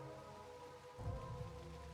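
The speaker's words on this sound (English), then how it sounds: "It's a gentle rain, protecting us." Gentle rain falls steadily in the video game Rain Code, a soft continuous patter that thickens with a low rumble partway through, with no voices.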